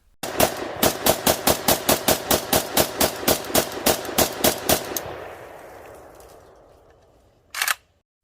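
AK74-pattern rifle in 5.56/.223, a Beryl-type import, firing at a shooting range: a rapid string of about twenty sharp, loud, evenly spaced shots with ringing decay, then a pause and one more shot, no talk.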